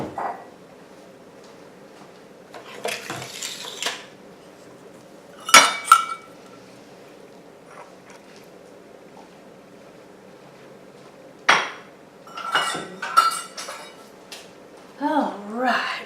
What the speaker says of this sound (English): Let me move some stuff so I can get our pan over here.